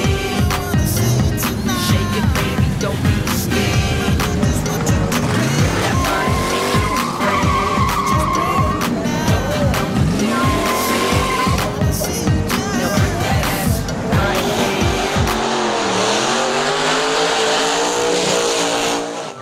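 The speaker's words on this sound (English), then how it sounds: "I just want to check out the burnouts," Cars doing burnouts at a street event screech with long tyre squeals and roaring, revving engines, loud and continuous with repeated bursts throughout.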